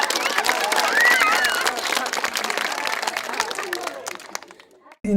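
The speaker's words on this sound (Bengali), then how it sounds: "জোরে হাত তালি।" An audience at a forum theatre performance bursts into loud, dense applause that fades over a few seconds before a sudden end.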